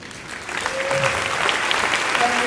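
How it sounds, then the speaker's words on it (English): Applause from an audience at a business sharing event, swelling from a quieter start into steady, sustained clapping, with a faint voice briefly audible beneath it. "I just want to have all of us give them a round of applause for all their efforts"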